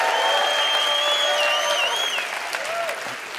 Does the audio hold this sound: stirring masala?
no